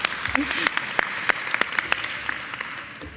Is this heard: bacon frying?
no